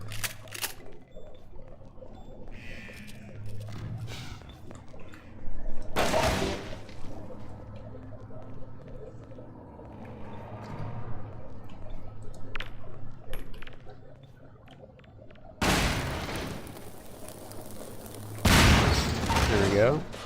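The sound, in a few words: shotgun fire in video game Half-Life 2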